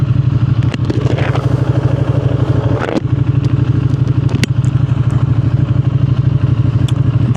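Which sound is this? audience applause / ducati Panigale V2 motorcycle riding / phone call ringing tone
ducati Panigale V2 motorcycle riding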